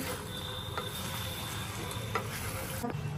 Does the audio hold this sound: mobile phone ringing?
no